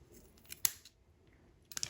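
Scissors snip through fluffed cotton wick being trimmed to fit a mesh deck for an Aromamizer Plus or Ragnar RDTA, with two close, crisp cuts about a second apart and quiet handling between them.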